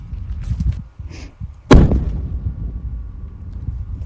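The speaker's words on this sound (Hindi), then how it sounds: "कई किलोमीटर दूर तक धमाके की आवाज जो है वो सुनाई दे रही है।" A single loud blast as the army disposes of an old bomb found in bushes near Jaisalmer, a sharp heavy boom with a rumbling decay, after faint background murmuring.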